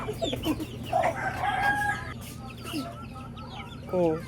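Chickens cluck and a rooster crows nearby, with overlapping bird calls over a low background rumble.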